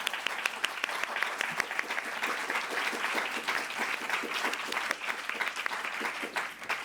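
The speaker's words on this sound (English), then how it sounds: "And then I also wanted to give a big round of applause to our two moderators, Darzel and Hafsa, who did a wonderful job." An audience claps steadily for a student panel, sustained indoor applause from a modest crowd with no talk over it.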